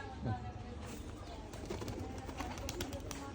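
Racing pigeons in a loft coo softly and steadily, with low murmuring calls running through a busy, faint background and no talk over them.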